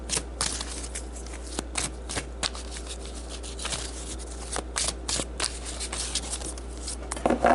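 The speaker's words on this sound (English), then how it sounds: "let's pull some advice cards for you guys" Advice cards shuffled close by in repeated quick bursts, crisp riffling snaps separated by brief pauses, clear and fairly loud against a quiet background.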